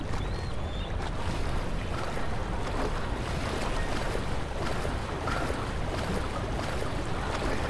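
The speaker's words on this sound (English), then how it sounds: "Sounds like something's walking through the water." A water wheel turns in water inside the dark, ambient world of Amnesia: The Dark Descent, a steady churning, sloshing wash with a low rumble that stays even and unbroken throughout, with no talk.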